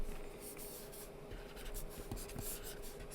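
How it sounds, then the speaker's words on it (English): Chalk or marker writing on a board during a chemistry lesson on moles and molecules, a steady scratchy rubbing with short strokes over a low room hum, close and fairly quiet, no talking. "So I'll go ahead and write the following."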